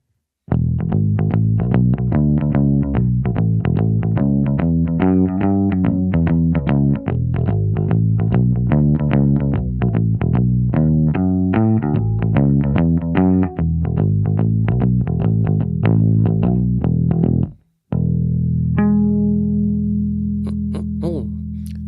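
A short-scale bass with worn-in flatwound D'Addario strings plays a steady, thumping line with warm, round low notes, loud and upfront, before stopping briefly and ringing out on a sustained note.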